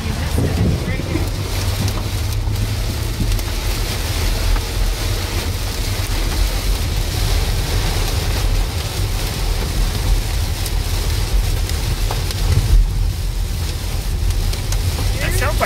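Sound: hail falling

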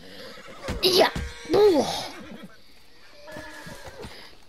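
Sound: horse neighing in video game Red Dead Redemption 2

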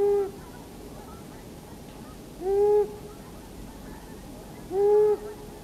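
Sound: long-eared owl territorial hoot

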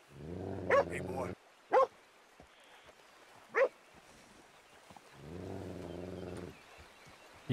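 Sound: dog barking, from video game Red Dead Redemption 2

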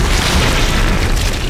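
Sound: explosion in the video game Dead Space

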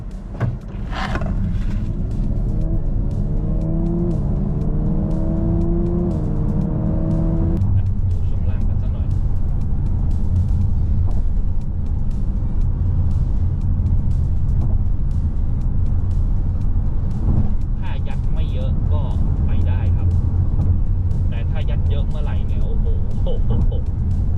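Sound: GWM ORA 07 Performance car accelerating with launch control

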